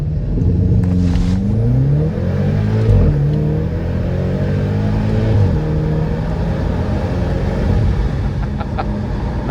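BMW X5M in stock form launching hard from a stop in manual mode, engine roaring and climbing through several upshifts, loud and close for the whole stretch with no talking.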